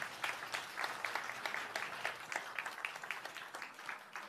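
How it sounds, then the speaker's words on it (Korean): Congregation in a Korean church applauding steadily, dense overlapping claps from many hands filling the room at moderate level without talk. "자, 우리 격려의 박수 한번 보내드리겠습니다."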